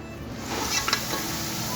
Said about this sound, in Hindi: इसके लिए मैंने गोश्त को भून रही हूँ और साथ ही मैं शोरबे के लिए प्याज को ब्राउन कर रही हूँ